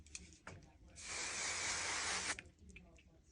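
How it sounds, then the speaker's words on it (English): A single steady hiss of Kenra texture hair spray lasts a little over a second, close and soft, with faint handling noises before and after. "And here is the Kenra texture spray."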